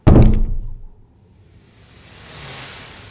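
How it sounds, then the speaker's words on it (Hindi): A heavy house door thuds shut nearby with a sharp, booming impact, followed by a quiet pause and a soft rising whoosh afterward. "जैसे ही घर का दरवाजा बंद हुआ"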